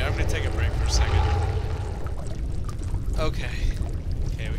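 Splashing, sloshing water from wading through a flooded passage in the horror game Amnesia: The Dark Descent, steady and fairly loud with rippling pours and trickles, with some breathy rustle underneath.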